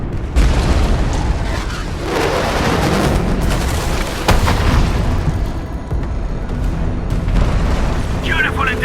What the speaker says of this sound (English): The UWST will fire at where you've marked.